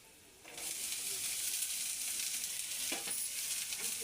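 Bitter gourd pieces drop into a hot pan and burst into a loud, continuous sizzle that holds steady for several seconds, with a brief stir-like rustle partway through.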